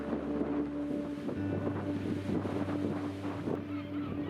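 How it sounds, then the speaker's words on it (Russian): Green waves of Lake Baikal slap against the sheer rock wall of the Zhandarm cliff, a steady low wash and splash muffled by wind buffeting the microphone. "зеленые волны бьются о нее"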